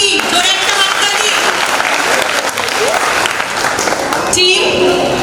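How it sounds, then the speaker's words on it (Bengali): Loud, continuous applause from an audience at a quiz event on Sardar Vallabhbhai Patel held at a cultural stage in Taki, filling the whole stretch with dense clapping that swells slightly near the end. "জোরে একটা হাততালি"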